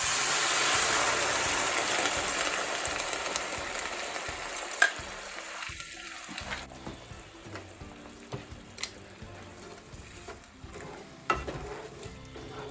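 Mongolian chicken stir-fry sizzling in a pan while being stirred, loud hissing frying at first that quiets, then scattered scrapes and crackles as the food is moved around, with no talk.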